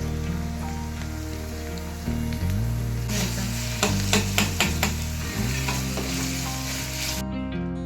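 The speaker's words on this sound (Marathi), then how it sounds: "आता हे लसूण फ्राय झाले मस्त ठेचा आपला त्याच्यामध्ये कांदा टाकून घेते" Onion sizzles in hot oil with fried crushed garlic thecha. A loud, steady hiss and crackle runs over background music, and a burst of spattering joins in halfway through.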